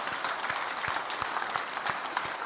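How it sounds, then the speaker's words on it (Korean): A church congregation at a revival service applauds, a steady, fairly faint wash of clapping from many hands with individual claps standing out, continuing throughout without speech. "여러분 모두에게 축복의 박수만 하십시다."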